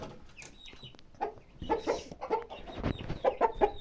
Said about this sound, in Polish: Kogucik i kurka.